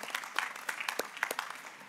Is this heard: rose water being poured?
no